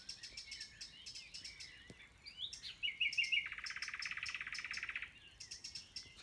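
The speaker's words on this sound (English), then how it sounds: "Just a little brown bird." A small brown bird of the thrush family calls from somewhere overhead outdoors, giving a string of high, bright chirps and then a quick sustained trill, moderately distant and clear with no talking.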